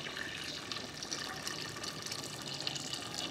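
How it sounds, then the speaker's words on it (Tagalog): Hot water from a thermos pours into a cooking pot of fish soup with tomatoes, a continuous near splashing gush that runs steadily throughout with no voices. "lagyan na po natin ng tubig mga paps. Yung nasa thermos na para mabilis."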